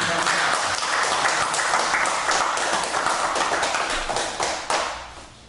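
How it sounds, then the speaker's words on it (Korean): Lecture audience applause at the close of a talk: many hands clapping in a dense, crisp patter with some sharper individual claps, holding steady before tapering off near the end. "큰 박수 주시기 바랍니다"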